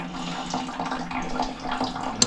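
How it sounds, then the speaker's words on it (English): Water runs steadily from a tap into a small sink in a 2005 Ford E250 van conversion and drains away, a close, continuous splashing wash with a brief clatter at the end. "put water in there, it does drain out"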